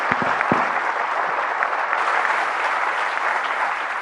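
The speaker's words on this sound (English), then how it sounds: "Please join me in applauding the Secretary General for his intervention." An audience applauds the UN Secretary General after his address at IIT Bombay, a dense, steady wash of clapping filling the hall from start to finish with no talk over it.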